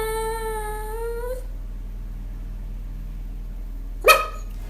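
A single sharp dog bark from Mabel bursts out near the end, after a sustained Yamaha YDS-150 digital saxophone note cuts off into a quiet room.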